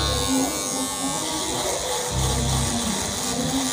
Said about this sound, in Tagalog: So daanan natin ngayon ng shaver para medyo makinis yung headline niya.